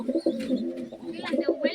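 Pigeons kept in a backyard pigeon setup coo softly up close, with overlapping low throaty rolls and a few brief higher rustles.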